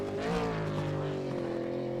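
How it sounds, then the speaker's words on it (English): V8 Supercar in a racing video game at Imola, its engine note stepping down as it downshifts to brake, a loud continuous harmonic drone sliding lower in pitch, close and steady throughout. "Using his gears to brake and slow the car down."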